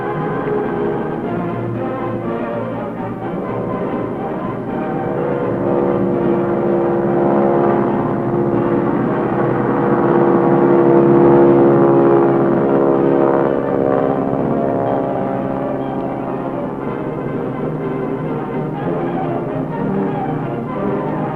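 A low-flying fixed-wing aircraft spraying insecticide aerosol drones steadily, its propeller engine noise swelling louder midway and then easing, continuous and alone.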